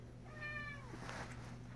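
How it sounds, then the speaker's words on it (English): A cat gives a single drawn-out meow, clear but fairly quiet, over a steady low electrical hum in an indoor room. "I hear you, Kitty"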